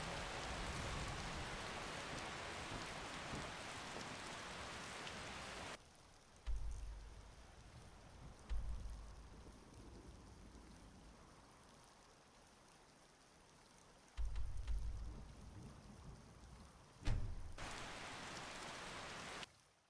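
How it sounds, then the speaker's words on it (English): Rain falling in Skyrim, a steady hiss that drops away midway and returns, with a few low thumps along the way. "Ooh, some nice rain."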